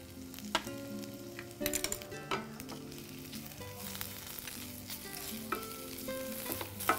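Tomato, onion, ginger, garlic and mudakathan greens are lightly sautéed in a pan, giving a continuous soft sizzle with occasional spoon scrapes and clinks, over a faint background drone, no voices.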